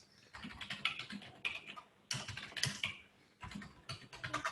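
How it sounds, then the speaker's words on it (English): Close, quiet typing on a computer keyboard comes in three quick bursts of rapid keystrokes separated by short pauses. "So I can just type that in the chat."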